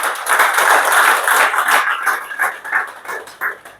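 An audience at a seminar in Qatar claps loudly and steadily for the class leader, then the applause breaks up into uneven, fading bursts.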